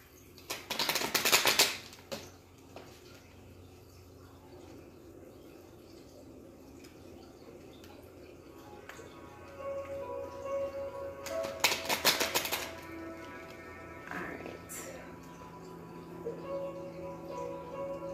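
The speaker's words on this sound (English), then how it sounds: "Let me finish shuffling here." Tarot cards riffle and shuffle in two crisp bursts, near and fairly loud, separated by a long stretch of quiet handling noise.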